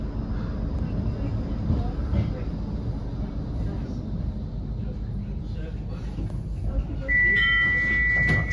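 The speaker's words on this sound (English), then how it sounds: "This tram is for Stargate." A Blackpool tram rumbles steadily along the tramway toward Starr Gate, with a constant low roll. A faint voice and a brief electronic tone come near the end.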